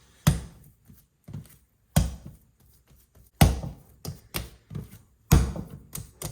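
High-hydration pizza dough slapped and worked by hand on a workbench, giving loud, close, irregular thuds and taps spaced about a second apart, with no talk.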